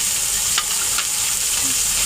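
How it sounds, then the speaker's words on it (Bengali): Cabbage sizzles steadily as it fries in a hot wok after the beans are removed, with a couple of sharp scraping stirs cutting through the constant hiss. "এবার এর মধ্যে বাঁধাকপিটাও একটু ভেজে নেব।"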